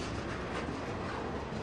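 Freight train made of locomotives, boxcars and tank cars rolls past in a brief, steady, broadband rumble and clatter of moving rail cars, with no voices.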